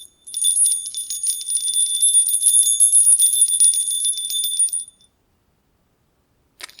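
Om bells ring in a bright, sustained shimmer with steady high tones, fading out after about five seconds, followed by silence and a brief faint tap at the end.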